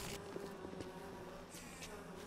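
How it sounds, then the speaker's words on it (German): Angry bees buzzing around a beehive in an apiary in BioShock, a faint steady drone with a thin tonal hum, quiet and continuous throughout. "Zornige kleine Bienen."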